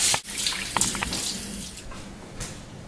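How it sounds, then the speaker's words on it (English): A tap runs steadily into a sink for hand washing, a close, moderate water stream with splashy bursts early on that settles into a softer flow. "make sure you wash your hands with warm water and soak for 20 seconds"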